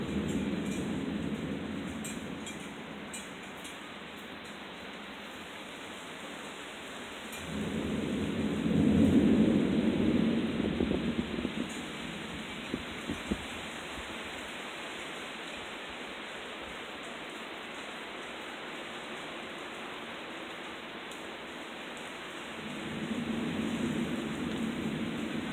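Distant thunder rolls in a long low rumble during a thunderstorm, swelling midway and again near the end over steady rain hiss, with no voices.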